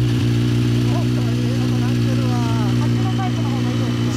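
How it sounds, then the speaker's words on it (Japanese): A 2013 BMW S1000RR sportbike with an Akrapovic exhaust runs at a steady, loud idle, its even engine drone continuous throughout while voices talk over it. "ごめん、エンジン音聞かせて。"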